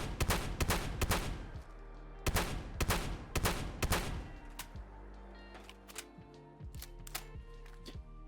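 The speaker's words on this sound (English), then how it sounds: "Starting off with that revolving shotgun." Revolving shotgun firing in the video game Fallout 4, with loud, close blasts in rapid clusters followed by mechanical clicks and reloading clatter.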